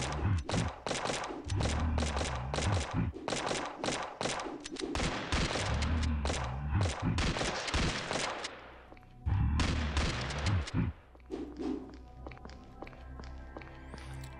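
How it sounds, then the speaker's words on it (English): Pistol shots fire in quick bursts in the video game Chromosome Evil, a dense rapid run of sharp cracks with heavy low thuds, broken by a brief pause and then a final volley before quieter game ambience. "Can afford to use some pistol ammo on this one."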